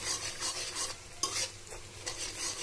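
Scrambled eggs stir-fried in a pan for noodles, a soft continuous sizzle with rhythmic scraping and stirring strokes of a spatula, fairly quiet and close, with no voices.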